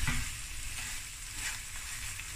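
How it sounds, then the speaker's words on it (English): Prawns hit a hot pan for a prawn and coconut cream curry, giving a close, steady hiss of frying that sputters and crackles throughout with no talking. "Okay, I'm going to add my prawns."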